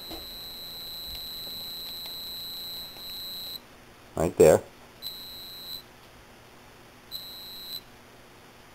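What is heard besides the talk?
metal detector pinpointer beeping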